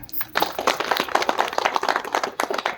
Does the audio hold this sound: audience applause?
yes